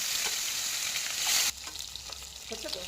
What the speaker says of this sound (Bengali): এবার এপাশ ওপাশ করে মাছগুলোকে একটু ভেজে নিচ্ছি, ভালো করে একটুখানি ভেজে নিতে হবে।